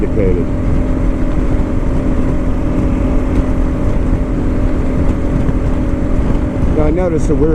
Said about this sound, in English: The engine's purring.